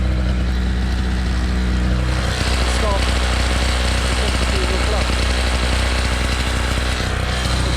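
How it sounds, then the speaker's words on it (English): A propeller aircraft engine idles on the high side, giving a steady, close, continuous drone with a faint harmonic hum that holds unbroken for the whole stretch. "The idle is a little bit high here,"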